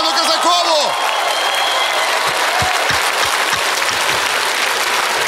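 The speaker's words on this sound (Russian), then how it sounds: "хочу попросить уважаемую публику аплодисментами поддержать Оксану Казакову!" Audience applause fills a figure-skating ice show arena, a dense steady wash of clapping from a large crowd, with a voice and brief tones over it at the start.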